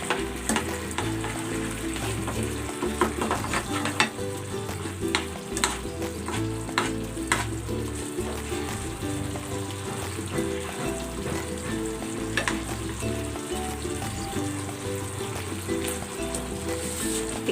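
Chicken in barbecue sauce sizzles and crackles in melted margarine in a pan, a dense, steady frying hiss with scattered pops and occasional stirring, close and without talk.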